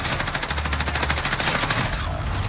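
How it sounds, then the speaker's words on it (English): A sustained burst of rapid automatic gunfire rattles loudly in a video game firefight, evenly spaced shots continuing for a couple of seconds before tailing off. "I got shot in the back."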